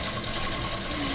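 A sewing machine stitches cloth in a steady, rapid mechanical whir with a fast regular needle rhythm, close and moderately loud, with people talking faintly in the background.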